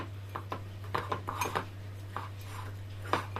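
A spoon stirs ground cumin and garam masala together for a Mughlai paratha filling, making a run of soft, close scrapes and light clinks in an irregular rhythm over a steady low hum.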